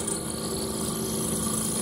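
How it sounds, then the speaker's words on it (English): A power drill grinds steadily through a cast iron Vortec cylinder head, a constant droning whine without pause. "It drills right through that cast real nice."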